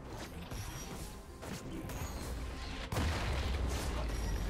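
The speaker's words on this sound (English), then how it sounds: "Blue team's turret has been destroyed." A League of Legends turret breaks apart with creaking, grinding mechanical noise and a heavy boom near the end, loud and busy amid ongoing game effects.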